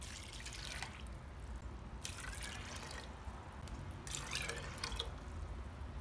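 Water is poured over soaked lentils in a pot, a soft, low-level splashing and trickling in several short bursts over a steady background hiss.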